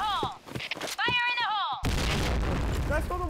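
In the game CrossFire, a voice line is followed by a sudden loud grenade blast that booms into a sustained roar, with gunfire-like noise and further voices close by.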